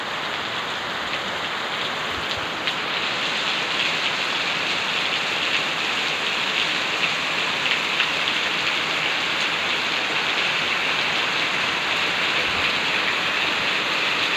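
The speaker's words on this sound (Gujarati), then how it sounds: "અત્યારે વરસાદ વરસે છે" Heavy rain pours down steadily at a dairy farm, a dense, continuous hiss of drops striking surfaces that holds at an even, loud level throughout with no voices.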